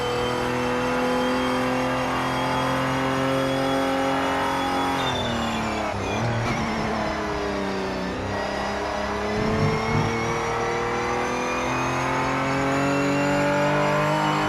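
A Mazda race car engine in the racing game Project Motor Racing revs hard and steadily, its loud harmonic drone rising, dipping sharply on a brief downshift around a bend, then climbing again.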